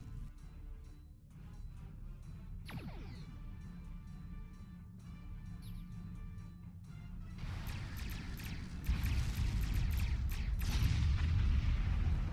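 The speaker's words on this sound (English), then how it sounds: "We fire on his position. Target his location and fire." Starship weapons firing in the space game Star Trek Online, with booming blasts and sweeping energy shots over a low rumbling hum, growing heavier and louder toward the end.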